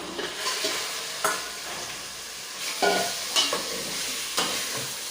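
Marinated prawns fry in a pan with a soft, continuous sizzle and a few sharp stirring scrapes spaced through it, close by and with no talking.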